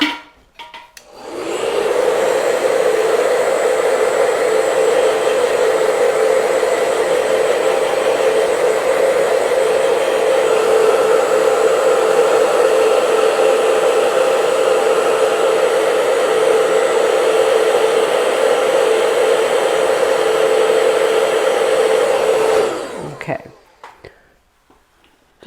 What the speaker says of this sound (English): I need to dry this just real quick. So I'm going to grab my hair dryer.